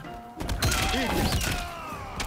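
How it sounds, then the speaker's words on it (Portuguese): Heavy punch impacts with whooshing effects in the Mortal Kombat 1 fighting game, a quick run of thuds and cracks over synthetic tones. "Dando um soco!"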